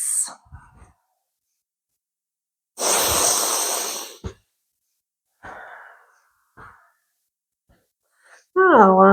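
Deep yoga breaths come close to the microphone as long, airy inhales and exhales separated by pauses, followed at the end by a spoken voice.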